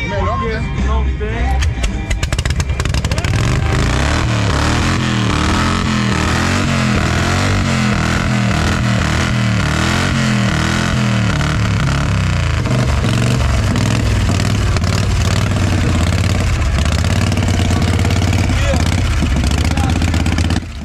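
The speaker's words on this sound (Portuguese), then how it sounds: "Graças a Deus a moto pegou e ele vai conseguir sair desse stand infernal." An old, worn-out Harley motorcycle with its air filter removed fires up and keeps running, a loud, rough, clattering engine that settles into a steady, uneven idle, close by and dominating the whole stretch.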